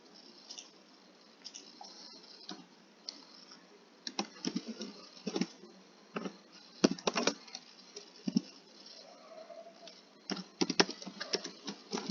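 Someone types on a computer keyboard in uneven bursts of close, crisp keystrokes with short pauses between them, and no one speaks.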